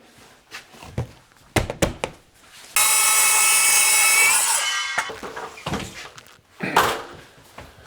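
A power drill drives screws into Trusscore PVC wall panels: scattered knocks and handling thumps, then a loud sustained whirring burst for about two seconds, followed by more close clunks and rubbing.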